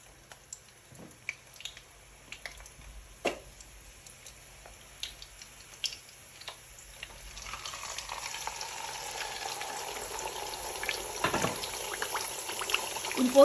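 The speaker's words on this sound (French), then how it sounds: "Quand l'huile va chauffer, il faut mettre quelques tranches d'oignon avant de mettre le poisson." Onion slices fry in hot vegetable oil, first as soft crackles and small clicks, then a steady louder sizzle from about the middle, with a few sharper bumps and no talk.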